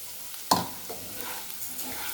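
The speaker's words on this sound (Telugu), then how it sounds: "వేసి మంచిగా కలుపుతూ ఒక 2 మినిట్స్ ఇందులోనే కలుపుతూ ఉండాలి" Vermicelli frying in oil with turmeric as it is stirred, a sharp spoon clack followed by a soft continuous sizzle and light scraping close by.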